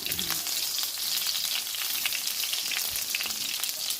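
Garlic sautés in hot oil for chicken curry, a steady bright sizzle and crackle running throughout, close and even, with occasional small pops and no talking.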